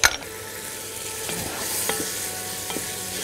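A pot of marinated chickpeas is stirred over a steady sizzle, with a few soft spoon scrapes and taps against the pot.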